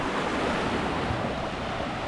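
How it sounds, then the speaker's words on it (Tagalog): Ocean surf rolling onto a surfing beach at San Juan, La Union, a continuous loud wash of breaking waves with wind buffeting the microphone and no voices. "Ang alon, oh."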